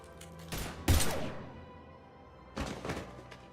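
Bursts of gunfire in the video game Mass Effect 3, a couple of sharp clustered volleys with thuds about two seconds apart, fairly close and without talk.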